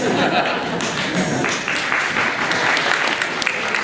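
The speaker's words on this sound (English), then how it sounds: "No, don't clap for that." Guests at a bar mitzvah clap through a speech, a continuous moderate patter of applause mixed with chatter and voices.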